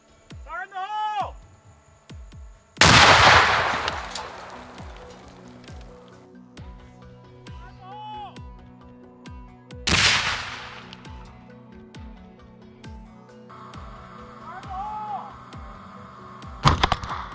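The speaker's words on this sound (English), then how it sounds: "The grenades were all connected via det cord so we can detonate them at once" Five grenades joined by det cord detonate at once in one sudden, loud, close blast that decays into rumble and debris. Quieter echoing cracks follow, with other sounds in the background.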